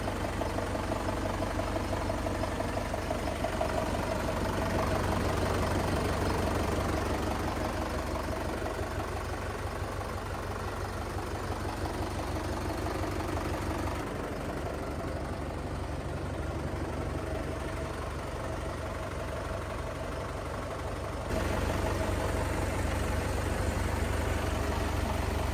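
The engine of a 2023 VST 9045DI Viraaj tractor idles in a steady, close, continuous low rumble with a slight change in tone partway through.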